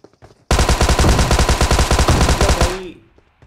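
Hip-fire automatic gunfire in the PUBG battle royale game, a loud rapid burst of evenly spaced shots lasting about two seconds, then fading out.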